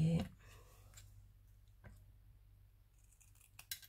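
Scissors snip through paper at a craft table, a short cluster of crisp cuts near the start and a few sharper clicks near the end, with quiet stretches between and no talk over them.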